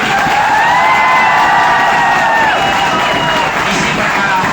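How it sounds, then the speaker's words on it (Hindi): A loud crowd cheers and whoops throughout a coaching class gathering in India, a dense, sustained roar of voices with some clapping mixed in. "एक बार जोरदार ताली मेरी तरफ से"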